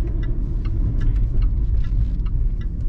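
A 2018 Jaguar XE Premium AWD diesel car accelerating, heard as a steady, loud low rumble of engine and road noise throughout with no talk.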